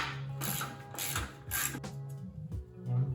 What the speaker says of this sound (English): we can go around and place all 6 bolts and torque them to 47 foot-pounds.